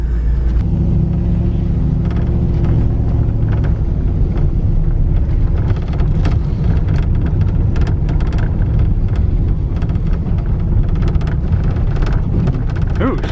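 A Pontiac Grand Prix with a troubled transmission driving, heard from inside as a loud, steady low rumble of engine and road with scattered knocks and rattles throughout, no talking.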